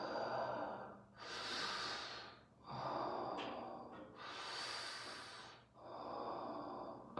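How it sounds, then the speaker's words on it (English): Slow, deep abdominal breaths drawn in and pushed out audibly, three long close inhale-exhale cycles with brief pauses between, no talking. "the proper way to breathe is this."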